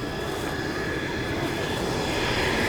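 Two US Air Force F-16 fighter jets roar steadily overhead at an air show, a broad engine rumble with a high whine that slowly swells as they approach.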